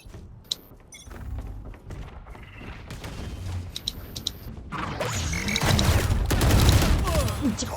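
Gunfire in the video game Valorant: sharp shots and mechanical clicks early, then dense, noisy rapid fire that builds louder toward the end, with a voice faintly present.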